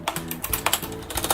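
Soft, rapid keystrokes on a Corsair STRAFE mechanical keyboard with Cherry MX Red switches, heard close up as a light, even patter of clicks with no talking.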